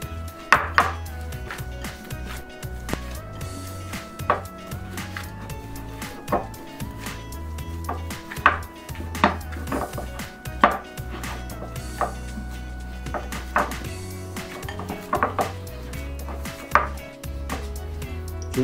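Ground beef mixed with a spice rub for burger patties gives a run of close, sharp utensil clicks and taps against a bowl, irregular and fairly quiet.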